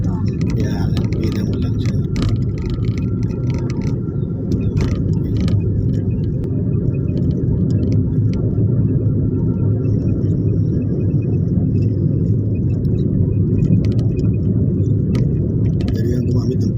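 A car driving in third gear gives off a steady, low engine rumble that carries throughout while a voice talks over it.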